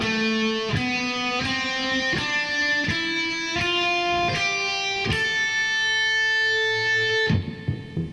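Guitar notes of a natural minor scale picked one at a time in a steady stepwise run, about eight separate tones, clean and moderately loud with no talking.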